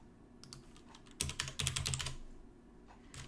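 Typing on a computer keyboard at a terminal, a short run of quiet clicks building into a quick, louder burst of keystrokes, then a few more taps at the end, close and alone.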